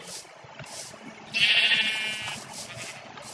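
A single sheep bleat from the Minecraft video game, a clear, fairly loud wavering call lasting about a second over quiet background ambience.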